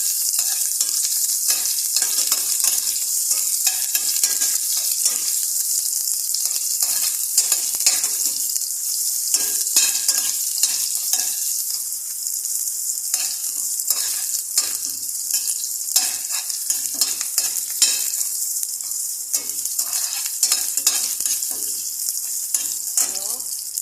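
Ginger and milkfish being sautéed in a pan as aromatics, a steady bright sizzle of frying oil with frequent stirring scrapes and clinks throughout, loud and close with no talking.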